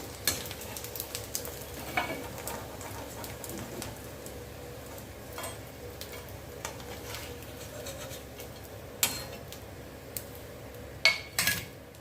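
Rice vadam, sun-dried parboiled rice koozh vadam, frying in hot oil: a steady close sizzle runs throughout, with occasional clinks and scrapes of a utensil stirring.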